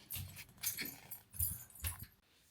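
A dog at home makes a few faint, short whimpering bursts in quick succession. The scene is otherwise quiet, with no one speaking.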